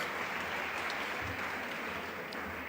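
An audience at an entrepreneurship development program session applauds, a steady, soft wash of distant clapping that continues evenly throughout.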